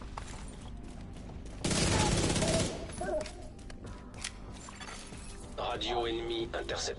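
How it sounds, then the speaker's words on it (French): Loud, dense gunfire in The Division 2 erupts in one sustained burst, set among quieter game sounds with scattered impacts and voices. "Je me rapproche pour être plus précis dans mes tirs."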